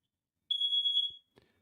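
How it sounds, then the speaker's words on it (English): A single high-pitched smoke alarm beep sounds for under a second, followed by a faint knock and then quiet. "I'm not sure why the alarms are going off."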